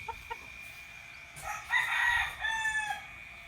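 A broodcock rooster kept in a battery cage on Olango Island crows once, loud and close, after a couple of short clucks, with quiet farmyard background around it.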